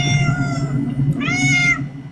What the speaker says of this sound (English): Everyone say hello to my cat.